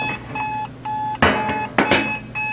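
An Equity Solid State Model 1010 alarm clock beeps in steady repeating bursts, loud and close, with brief clicks or handling noises interrupting the pattern.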